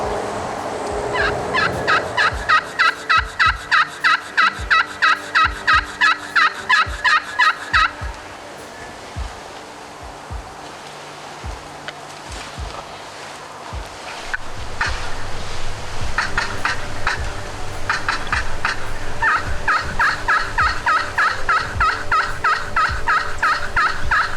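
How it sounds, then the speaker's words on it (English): A crystal turkey pot call yelps in fast, repeated series, with quieter stretches between bursts; the clucks and purrs sound bright, sharp and close. "I want to hit the crystal just like David did this morning."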